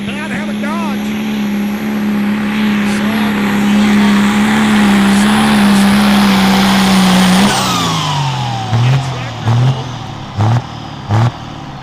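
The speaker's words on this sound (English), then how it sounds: "Coming down the track comes Jordan Lewis, the Bad Habit Dodge" A Dodge diesel pickup truck makes a drag run at a truck fest track, its engine droning loud and steady, then dropping in pitch as the throttle is cut, followed by a few short bursts, with an announcer talking throughout.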